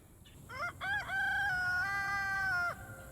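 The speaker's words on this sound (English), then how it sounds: "Really hate that rooster." A rooster crows once at moderate distance, a clear rising-then-sustained cock-a-doodle-doo call that stands alone against a quiet outdoor background.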